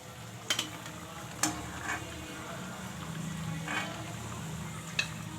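Sooji and mawa gujiya frying in hot oil over medium heat, a steady soft sizzle throughout with a few sharp clinks of a utensil against the pan.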